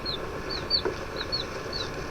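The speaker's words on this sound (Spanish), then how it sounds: "Es un pollito." Small high-pitched peeps from a young chick come in a rapid, irregular series of short chirps, fairly close and clear over a faint background hiss.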